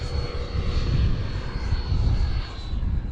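A Sebart Fiat G-91 model jet with an electric ducted fan roars at full throttle on a high-speed pass, giving a steady, loud whine and rush with slight swells. No one speaks.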